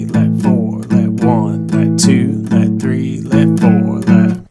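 Acoustic blues guitar plays a shuffle rhythm with the triplet notes held over, giving steady sustained chords that repeat in even pulses, close and clear with no talking.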